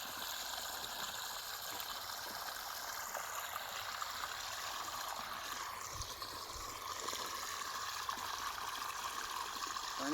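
Irrigation water runs steadily into a sweet lime orchard, making a constant, even gush and trickle with no pauses.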